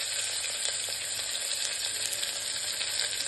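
Onion dropped into hot oil with mustard seeds and cumin for a village-style mixed vegetable curry, giving a loud, continuous close sizzle and crackle with no voices.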